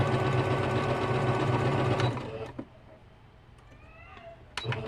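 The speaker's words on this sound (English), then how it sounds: "And continue sewing this one down." A domestic sewing machine stitches a bubble quilt, running steadily for about two seconds before stopping, followed by a few faint handling clicks and a quiet pause.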